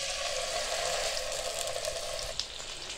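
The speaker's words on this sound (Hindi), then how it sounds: "हल्के से ऑयल में हम इसको फ्राई करेंगे" Marinated chicken drumsticks frying in a shallow layer of oil in a pan, a steady loud sizzle and hiss that carries evenly throughout, close up.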